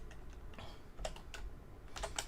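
Keys clacking on a computer keyboard while entering commands in Kerbal Space Program, a handful of separate close keystrokes spread unevenly and ending in a quicker cluster, no voices.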